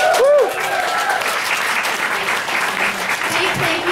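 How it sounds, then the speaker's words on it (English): Sustained audience applause at a Calgary Expo convention panel on Harry Potter Alliance and Quidditch, dense steady clapping filling the room throughout, with a few brief voices and whoops mixed in. "Let's give her another big round of applause"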